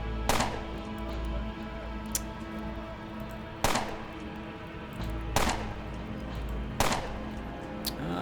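Gunfire in the video game Underrail: four loud, sharp shots spaced a second or two apart over a low steady background, with a faint click between.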